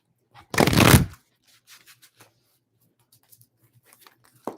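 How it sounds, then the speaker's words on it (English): Tarot cards shuffled by hand in a quiet room: one loud, close riffle lasting about half a second, followed by faint soft card taps and handling. "I'm just going to do a couple more draws, a couple more shuffles."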